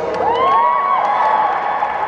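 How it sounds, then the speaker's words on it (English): An audience at a Supanova Melbourne convention panel cheers and whoops, with a few high shouts rising over a steady wash of crowd noise. The sound stays loud and continuous throughout. "I got a bigger applause"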